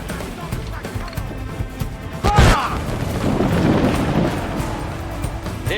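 Naval cannon fire from a sailing warship in Assassin's Creed IV Black Flag, with one heavy boom midway followed by rumbling debris, over game ambience and voices.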